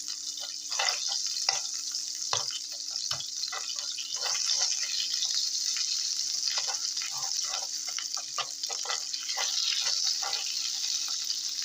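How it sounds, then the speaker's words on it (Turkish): A tablespoon of tomato paste fries in a spoonful of oil in a pan, giving a steady, soft sizzle with scattered small crackles and no voices. "Şöyle salçamızın kokusu gidene kadar kavuracağız."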